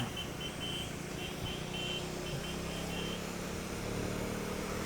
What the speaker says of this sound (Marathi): त्याला ओव्हरटेक मारायला एवढं बाहेरून चालवतोय तो गाडी.